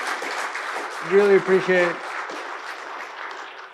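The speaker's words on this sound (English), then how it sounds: "I just want to give a huge round of applause to you guys" Audience applause at a business panel discussion: steady, dense clapping runs through the whole stretch while a voice speaks briefly over it near the middle.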